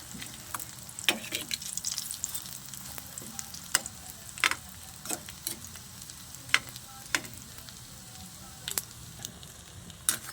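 Lumpia frying in a little oil over medium heat, a low background sizzle broken by frequent sharp pops and crackles at irregular intervals, close and moderately loud, with no talking.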